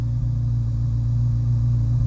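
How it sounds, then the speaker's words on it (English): A 2023 Corvette Z06 just switched into sport mode, its exhaust holding a steady, deep bassy rumble at idle, close and continuous with no talking. "You can hear the exhaust get a little bassier."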